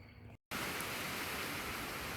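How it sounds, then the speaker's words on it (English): Steady heavy rain driven by strong wind, a dense broadband wash that fills the space after a brief cut, close and loud with no other sounds. "So it has started raining pretty good, and the wind blowing pretty hard."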